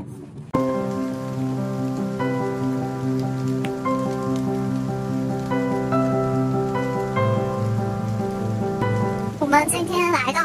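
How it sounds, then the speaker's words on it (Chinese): Rain falls steadily near a waterfall in Iceland, a continuous close patter and wash lasting throughout, with a steady tonal hum underneath and a brief louder disturbance at the end. "现在看到没，在下雨"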